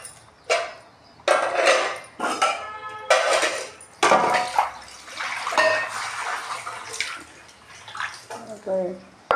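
Pot being washed by hand under running water, with bursts of splashing, scrubbing and clanks of cookware, while a person talks over it.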